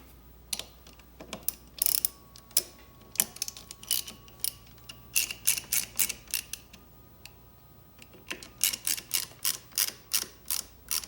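A handlebar RAM ball mount on a 2018 or later Honda Goldwing is tightened with a 4mm tool, producing rapid close ratcheting clicks in quick bursts that grow more regular toward the end.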